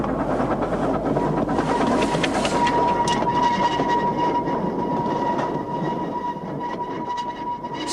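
A Groudle Glen narrow-gauge railway train hauled by the locomotive Polar Bear rolls past, with a continuous loud rumble of wheels and carriages, faint clicking over the rails and a thin high squeal.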